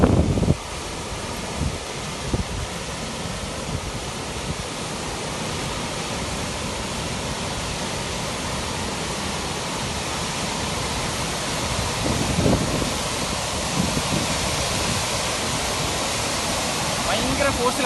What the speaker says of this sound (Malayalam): സൗണ്ട് ഭയങ്കര സൗണ്ടാണ് ഈ വെള്ളം വീഴുന്നതിൻ്റെ ഒച്ച കാരണം.